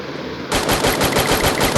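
Rapid automatic AR fire in a mobile battle royale shooter game, a loud burst of closely spaced shots starting abruptly after a short quiet moment and continuing steadily to the end.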